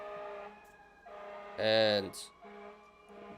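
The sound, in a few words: sirens passing outside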